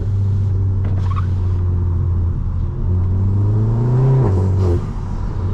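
A VW Golf MK7 GTI fitted with a Forge induction kit, heard on the road. The engine drones low and steady, then revs upward with a rising tone before easing off, loud and close with no talking.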